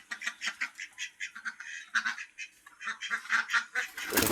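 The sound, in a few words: pigeons calling in their coop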